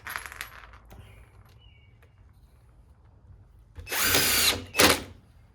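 A power drill drives screws into a wooden brood box for honeybee hives, two short loud whirring bursts following a quiet stretch of faint handling noises.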